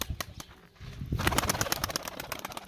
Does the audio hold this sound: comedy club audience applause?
no